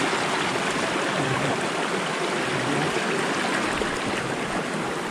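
River water rushing steadily over a dam barrier at Mandala Falls in Bulacan, a broad, continuous roar with no voices, even and unbroken from start to finish.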